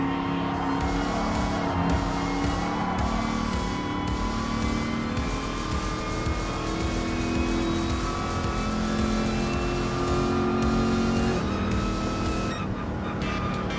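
A 1971 Ford Mustang Mach 1 muscle car racing in Gran Turismo Sport, its V8 engine roaring steadily at high revs, with shifting pitch and brief tire squeals. The sound is loud, close and continuous.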